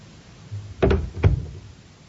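A front door opening and shutting onto a street, two close wooden thuds about half a second apart with a faint creak before them.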